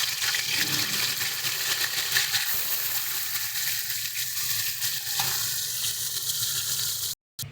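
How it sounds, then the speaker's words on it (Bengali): Fish pieces frying in hot oil in a home kitchen, a loud continuous sizzle with crackling spatter that runs steadily before a brief cut near the end. "একই রকমভাবে আমরা বাকি মাছগুলোকে কিন্তু ভেজে নেব"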